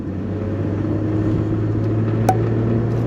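A 2003 Toyota Avalon with a 3-liter V6 rolls along in a steady, low cabin rumble and road hum, with one brief click near the end.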